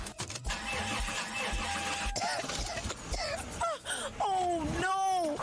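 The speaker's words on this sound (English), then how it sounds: "Oh no! Not my engine again." In a radio ad for AP lubricants, a car engine cranks repeatedly and fails to start. A groaning, moaning voice follows near the end.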